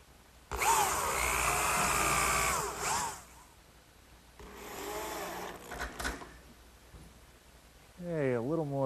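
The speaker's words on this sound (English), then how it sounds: "Just a few screws aligning it with my layout marks" A power drill whirs in two bursts, driving screws to fasten the back panel of a wooden corner cupboard, each burst rising and slowing as the screw seats, followed by a short wavering tone at the end.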